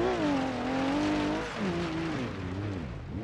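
A car drifts on the Pikes Peak hill climb in BeamNG.drive, its engine loud and close with a sweeping, wavering tone that rises and falls as the revs change through the slide.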